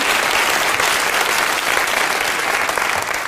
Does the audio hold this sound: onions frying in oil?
no